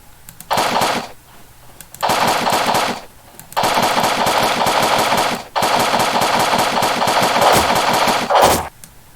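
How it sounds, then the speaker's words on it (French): Bursts of automatic gunfire in the blocky online shooter Blockpost, rapid loud rattling volleys in four separate stretches of a second or more, with brief pauses between them. "c'est qui me tire dessus?"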